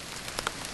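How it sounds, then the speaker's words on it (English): Hail patters densely on surfaces in the Irish countryside at Glendalough, a steady, hissing rattle with a few sharper clicks standing out, heard briefly and alone. "we are caught in a hailstorm in the beautiful weather here that Ireland is famous for"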